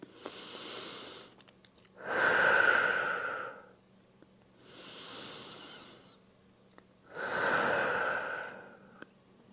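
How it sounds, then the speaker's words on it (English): Two slow, deep breath cycles during a child's pose stretch before breast surgery, each a soft inhale followed by a louder, airy exhale, close and clear with no talking. "give me 2 deep breaths here"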